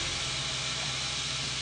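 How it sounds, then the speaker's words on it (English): Chicken breast marinated with herbs, spices and garlic sizzles steadily in a hot griddle pan, a constant broadband hiss that stays even and fairly close for the whole stretch with no voices. "that noise, that sizzling sound."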